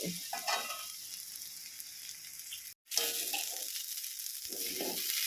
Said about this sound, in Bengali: চালটা প্রায় পাঁচ মিনিট মতন একটু ভাজা করে নিয়েছি